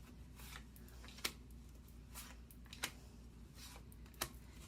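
Oracle cards shuffled by hand during a tarot-style reading, giving soft papery riffles with three sharp snapping clicks spaced evenly apart, quiet and close with no talking.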